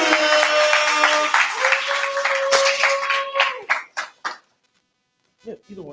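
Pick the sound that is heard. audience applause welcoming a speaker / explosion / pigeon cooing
audience applause welcoming a speaker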